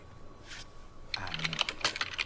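Quick bursts of keystrokes on a computer keyboard, close by, in uneven clusters after a brief quiet start.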